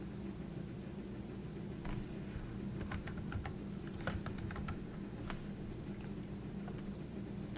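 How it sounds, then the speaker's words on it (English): Scattered key taps on a computer keyboard while a location is entered into a map gadget on a website, a handful of quiet, irregular clicks over a constant low hum. "Just type in a location"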